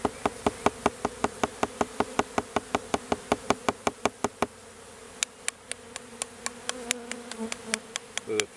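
A swarm of honeybees at a hive hums faintly beneath a rapid series of sharp, evenly spaced taps on the hive, the tapping slowing and thinning halfway through as the low buzz continues.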